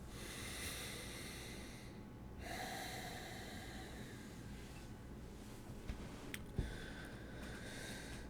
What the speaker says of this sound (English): We'll take a few breaths.